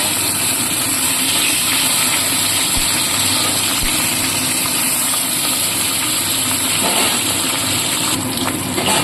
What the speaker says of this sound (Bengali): উল্টে ভালো করে ভেজে নেব।